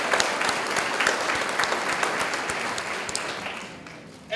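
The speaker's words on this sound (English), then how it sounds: "Let's give them a round of applause." A school audience claps at a fifth grade completion ceremony, steady applause from many hands that fades gradually over four seconds before a voice resumes at the end.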